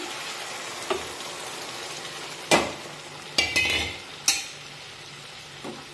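Semolina sheera being stirred in a pan over a low flame as milk is added: a soft steady sizzle broken by several distinct scraping clinks of a spoon against the pan, close and clear, with no talking.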